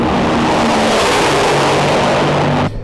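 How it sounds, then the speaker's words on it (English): Top Fuel drag racing car roaring past at very close range, an extremely loud, saturated blast of engine noise that holds for nearly three seconds and then cuts off abruptly. "The concussion that surrounds your body when those cars go by is just"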